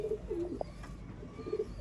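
Coos from a Sialkoti breed pigeon, two or three soft, low rolling calls spread across a short stretch with faint background hiss and no talking.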